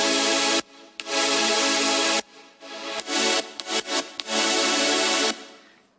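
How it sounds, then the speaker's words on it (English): A bright, buzzy sawtooth synth layer from an electronic music production, playing sustained chords in chopped, rhythmic bursts with abrupt gaps. "So the first saw layer sounds like this."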